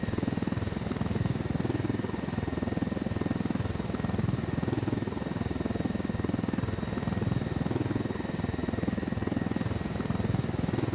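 A helicopter from the video game Ghost Recon: Wildlands comes in to land, its rotor and engine giving a steady, loud, continuous drone throughout with no talking over it.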